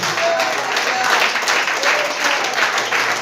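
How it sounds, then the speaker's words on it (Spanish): A church congregation claps together during a sermon, a loud, full stretch of many hands clapping nearby with a slight rhythmic pulse, faint tones and murmuring mixed underneath. "Aplaudan."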